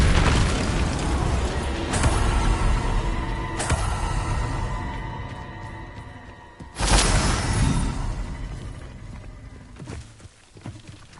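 Confringo blasting spell explosions in the Hogwarts Legacy game, several sharp booming bursts at irregular intervals over loud combat rumble, the last blast biggest before the noise gradually fades.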